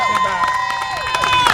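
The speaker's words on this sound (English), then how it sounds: "give her a great round of applause" Cheering and applause for a retirement at a celebration, steady crowd clapping with whoops and voices layered on top, fairly loud and continuous.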